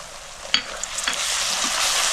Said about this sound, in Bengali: আদা রসুন আর লঙ্কা বাটা দিয়েও আমি 2 মিনিট মতো ভালো করে কষাই নেব।